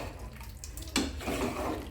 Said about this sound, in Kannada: ಇವಾಗ ಸ್ವಲ್ಪ ಎಲ್ಲ ಕ್ಲೀನಾಗಿ ಬಳದ್ಬಿಟ್ಟು ನೀರನ್ನು ಹಾಕ್ಕೊಳೋದು